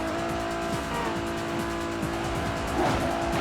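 A Toyota Supra racing in the video game Midnight Club 3, its engine droning steadily while the tires squeal, loud and continuous, with no talk.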